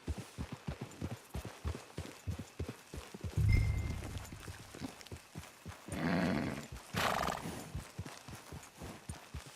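Horse hooves clip-clop in a steady walking rhythm in the Red Dead Online video game, close and clear, with a brief horse whinny and snort breaking in partway through.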